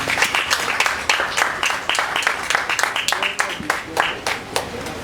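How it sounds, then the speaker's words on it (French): An audience at a slam poetry evening applauds a performer, sustained clapping from many hands with a few sharper individual claps, voices faintly mixed in. "On applaudit encore une fois pour lui, je vous en prie."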